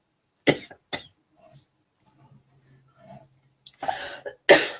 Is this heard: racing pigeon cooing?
no